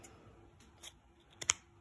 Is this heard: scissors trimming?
yes